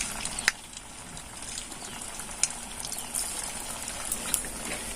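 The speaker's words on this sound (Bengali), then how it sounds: "এবার আমি একে একে কিন্তু দিয়ে দেব তেলের মধ্যে। দিয়ে এটাকে ভেজে নেব।" Semolina pitha dropped one by one into hot oil, giving a steady, close bubbling hiss with a few sharp pops and crackles throughout, no voices.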